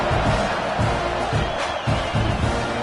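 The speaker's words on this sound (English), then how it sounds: "You think this crowd's going to get loud when their defense comes on the field?" Football stadium crowd at an Arizona Wildcats game roars in a loud, sustained wall of cheering and shouting, with rhythmic swells of chanting rising through it.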